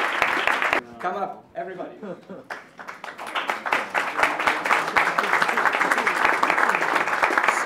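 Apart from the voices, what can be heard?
audience applause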